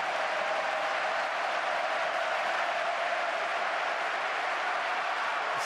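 Steady crowd noise and applause fill a football stadium at Mestalla as fans applaud Valencia's Dani Parejo preparing a corner late in a 2-2 match, a continuous even roar with no distinct claps standing out.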